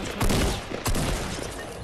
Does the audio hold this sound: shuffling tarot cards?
no